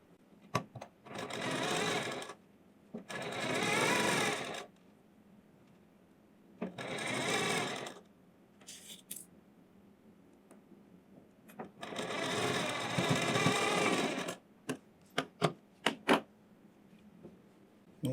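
An electric sewing machine stitches a Sabyasachi-style blouse in a tailor's shop, running in four separate bursts of rapid whirring with quiet pauses between, then ending in a few sharp clicks and taps.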